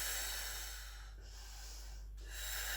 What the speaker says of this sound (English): take 4 deep breaths